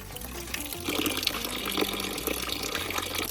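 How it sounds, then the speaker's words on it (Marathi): Grated potato being rinsed in a bowl of water for sabudana papad, with a steady run of splashing, trickling and pouring sounds and no talking. "चांगला स्वच्छ धुवून घ्यायचा बटाट्याचा पाणी काढून घ्यायचं चांगलं"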